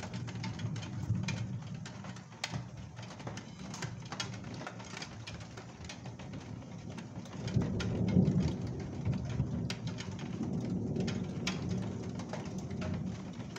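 A moderate, highly electric thunderstorm in Calvados, with heavy rain hissing steadily and low thunder rumbling, swelling louder partway through.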